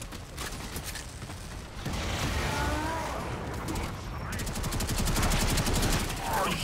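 Rapid automatic gunfire and repeated shots in the video game Warframe, loud and sustained bursts layered with mechanical effects, while a player talks over the action.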